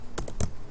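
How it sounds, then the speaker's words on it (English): A few quick keystrokes on a computer keyboard, three distinct close taps in under a second, clear and alone against faint room noise. "Sorry about my typing, but I am actually not that great at typing."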